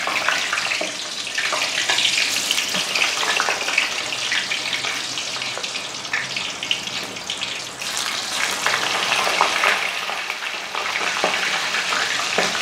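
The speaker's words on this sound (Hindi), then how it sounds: "ऑयल को मैंने अच्छी तरह से गर्म कर लिया है। ये मैं ऐसे ही उठा के इसमें रख देता हूँ।" Frozen french fries are dropped into well-heated oil and fry vigorously, producing a loud, continuous bubbling hiss with dense crackles that surges and settles over several seconds.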